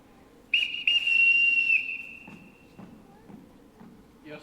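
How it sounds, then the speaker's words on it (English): A shrill, sustained whistle blown to call a household together, one steady high blast lasting over a second that tails off, followed by faint shuffling footsteps in a quiet room. "Everyone in this house answers to a whistle"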